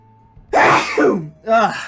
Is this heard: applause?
no